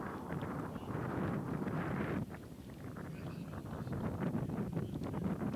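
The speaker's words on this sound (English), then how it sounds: "The wind picks up" Wind buffets the microphone at an outdoor baseball field, a loud continuous low roar with gusty fluctuations and no clear voices.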